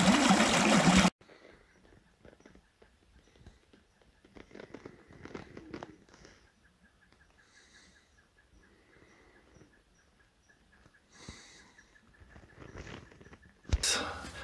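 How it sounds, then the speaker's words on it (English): A solid stream of water flowing past an old beaver dam near a mountain cabin, a soft steady trickle and rush heard at low level with faint rustling, after a louder burst at the start. "Yeah, a pretty solid stream of water."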